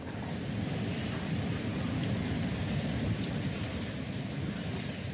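Heavy rain from a cyclone storm with gusts up to 200 km/h roars in a dense, unbroken wash of noise, steady and loud throughout with no voices.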